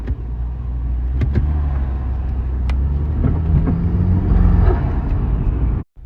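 Turbocharged Saab 9-3 engine fitted with a pod air filter, a steady, loud, close drone with a few brief whistling and chirping accents, running continuously before cutting out sharply near the end.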